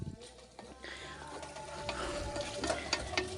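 Onion and garlic sautéing in a pan for a beef bone dish, with steady sizzling and frying crackle under occasional stirring scrapes, rising slightly louder toward the end.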